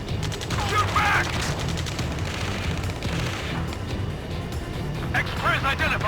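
Rapid gunfire and explosive booms from the video game Ace Combat Skies Unknown, a steady loud barrage that runs continuously beneath urgent shouted voices.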